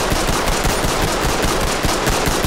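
Rapid automatic gunfire in a shooter video game, dense and continuous bursts with sharp repeated cracks throughout, loud and close with no pauses.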